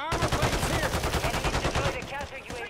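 Sustained automatic gunfire in a video game, loud and rapid, rattling steadily through the whole stretch with brief tapering near the end.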